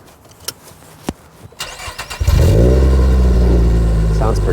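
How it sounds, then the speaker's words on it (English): A Nissan Sentra SE-R Spec V engine cranks and fires up, settling into a loud, steady idle with a deep exhaust rumble, after a few faint clicks and rustles near the car's cabin. "That's different exhaust."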